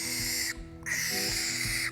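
Barn owl giving two long, harsh, hissing screeches close by, each about half a second to a second, separated by a brief gap with no other sounds.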